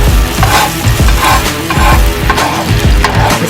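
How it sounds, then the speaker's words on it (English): A spatula scrapes and pushes scrambled eggs around a hot frying pan, producing a busy, close sizzle with repeated rhythmic scraping strokes over a few seconds. "the spatula and just move these eggs around a little bit"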